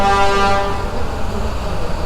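A car horn toots loudly for about half a second on a Bronx street, then busy city traffic noise rumbles on without speech.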